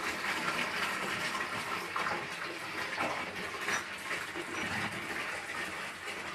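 Water pouring into a bucket for washing raw fleece, with a bit of cold added, a continuous splashing, gurgling fill with slight surges, moderately quiet and close.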